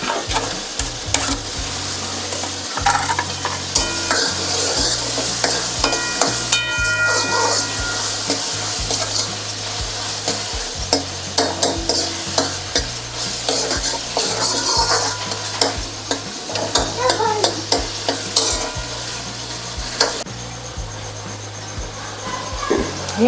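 Tomatoes sizzle and fry in a pan for dhaba-style whole masoor dal, with a spoon stirring and scraping steadily throughout, a continuous close crackle with occasional clinks.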